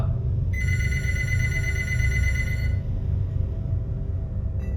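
A telephone bell rings steadily for about two seconds, then stops, over a low background rumble; a brief ring returns at the very end.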